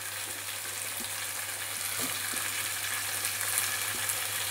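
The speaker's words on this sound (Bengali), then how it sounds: "দিয়ে দিলাম টমেটো ক্যাপসিকাম চৌকো করে কেটে রাখা, সেগুলো দিয়ে দিলাম ভাজার জন্য।" Diced tomato and capsicum fry in a pan for chili chicken, a continuous close sizzle with a few light knocks from stirring, no voices.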